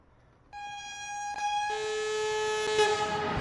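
A train in Train Sim World 3 rolls over rail joints while a tonal horn-like whine holds steady above it. The rolling rumble and faint rhythmic rattle build over a few seconds.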